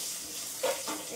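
Ginger garlic paste sizzles in hot oil in a pan, a faint, soft frying hiss with a short louder flare as it is stirred.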